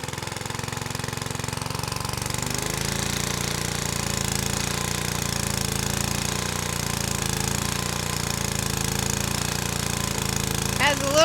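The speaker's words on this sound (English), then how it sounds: "Let's see what it does when I give it some throttle here." An old motorcycle engine running steadily with a low throbbing rumble and rhythmic mechanical clatter, rising slightly as the throttle opens, with a brief sharp noise at the very end.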